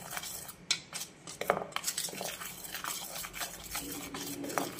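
A spoon scrapes and clinks steadily around a bowl as dhokla batter is mixed with salt, close and busy, with clicks and faint wet stirring throughout and no voices.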